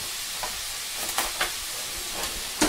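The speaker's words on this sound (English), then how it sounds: "the pork and the first run of the vegetables are sauteing and the vegetables are starting to give up some of their liquid" Pork and vegetables saute in a pan for a Thai-style stir fry, a steady close sizzle with a few soft scrapes and stirs breaking through, no voices.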